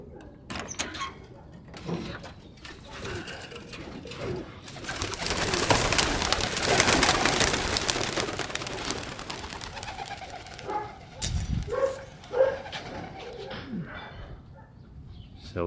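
Racing pigeons fly together in a kit overhead, with a burst of rushing wing flutter in the middle, soft cooing and scattered clattering sounds before and after, and no talking.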